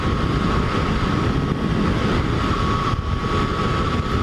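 A Yamaha FJ-09 motorcycle cruising at speed on a daily commute, a constant loud roar of engine and wind rush with a steady hum, no breaks.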